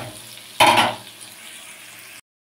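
Casein kofta frying in oil with salt and turmeric: a sudden louder burst of sizzling settles into a softer steady crackle nearby, then cuts off, with no talking.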